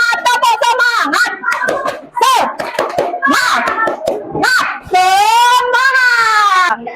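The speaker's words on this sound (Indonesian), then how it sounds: "untuk menambah semangat, tepuk semangat." A class of children shouts a rhythmic 'tepuk semangat' clapping chant, sharp claps alternating with loud sung calls, energetic and close, ending in a long drawn-out shout.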